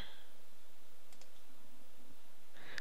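A computer mouse clicks a few times, sharp and close, in a quiet room, with a brief burst of extra clicks near the end.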